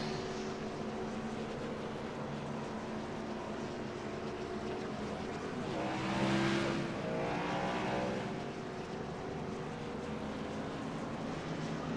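Race cars pull off pit road behind a pace car, making a steady, distant engine drone with a swelling whine as one passes closer midway, then settling back into a continuous hum.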